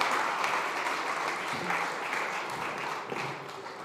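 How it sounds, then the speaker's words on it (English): A room full of people applauding at a food summit at SXSW 2025, a dense steady patter of clapping that holds throughout and fades slightly at the end. "Please give them a round of applause."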